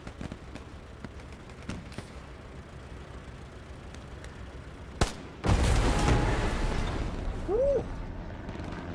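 An AT mine detonating in Hell Let Loose, a sudden loud blast followed by a heavy rumbling roar that lingers for several seconds over a steady background of distant battle noise.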